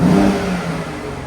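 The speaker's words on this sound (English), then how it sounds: "I will just give the car a little rev up for you." A loud car engine revs up close, then eases back into a steady lower drone.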